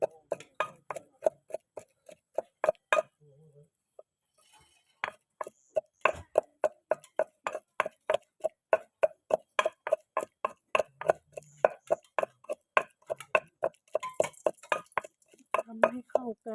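Rapid rhythmic pounding of shrimp paste and garlic with a mortar and pestle for a stir-fry, dozens of sharp close thuds in steady runs with a brief pause.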